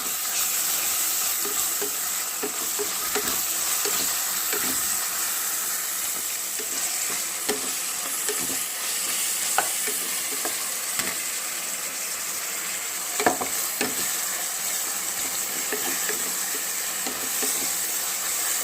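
Ginger-garlic paste, coriander and fenugreek leaves frying in oil in a pot for Telangana-style bagara rice, giving a steady close sizzle with scattered crackles and pops, no voices.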